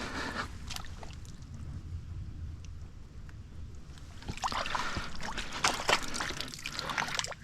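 Pond water trickles and splashes as it is poured into a Millbank filter bag outdoors, a steady low wash of liquid that grows louder and more splashy in the second half.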